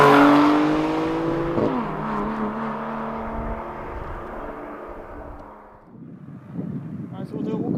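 A 2021 BMW M2 CS passes close by, its engine note loud and then sliding down in pitch as it drives away, before a softer rumble of road and wind noise takes over.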